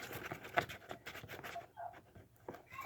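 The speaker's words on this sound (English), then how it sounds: "I think it's your dog." A dog pants nearby in quick, breathy bursts that come in uneven runs, fairly quiet and close, with a brief pause partway through and no talking over it.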